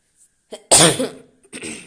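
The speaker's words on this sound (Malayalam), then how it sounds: "ചുമ ചുമ ഭയങ്കര ചുമയാണ്" A single sharp, close cough bursts out after a short intake of breath, followed by a softer second cough.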